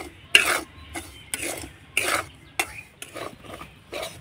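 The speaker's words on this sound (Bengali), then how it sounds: "এই শুকনো খোলায় একটু নাড়াচাড়া করে সুজিটাকে ভেজে নেব।" Semolina stirred in a dry pan while roasting, with about nine scraping strokes in a steady rhythm, close and moderately loud, and no voices.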